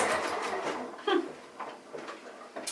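Sewing machine stitching a ribbon hanger onto a mini quilt, a short close burst of rapid mechanical whirring that tapers off into a few quieter stitches and clicks.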